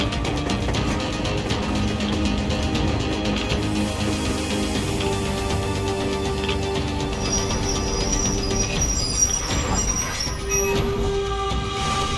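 A locomotive brakes to a stop in the video game Metro Exodus, with a continuous rumbling rail drone that gives way to high, drawn-out metallic wheel squeals in the second half, loud and close, with no voices.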